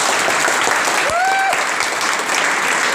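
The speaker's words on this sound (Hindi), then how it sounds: "एक बार ताली हो जाए लोगों के लिए।" Audience applause at a lively stage show fills the whole stretch, a steady dense wash of clapping from a crowd, loud and close, with a brief whistle-like tone partway through.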